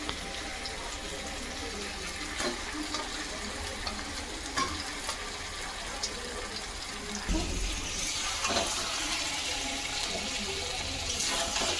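Meat going into a hot pan for a Bengali home-cooked dish, with a steady broadband sizzle and hiss that swells louder near the end, alone with no talk.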